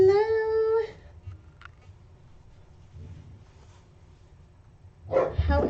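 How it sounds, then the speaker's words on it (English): Dogs fighting outside a door: a loud, high yelping howl opens, then a quiet gap with faint thumps, then a burst of harsh, close barking and snarling at the end. "Dogs are fighting outside my door."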